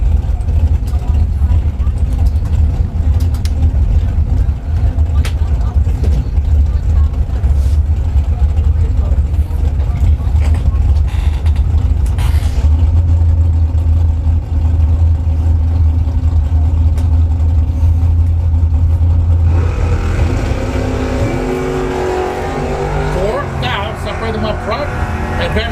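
Drag race cars, a Chevrolet Vega and a Camaro, rumble loudly at a bracket race strip with sustained heavy low engine roar, then a shift as the sound changes near the end, under a busy crowd and commentator backdrop.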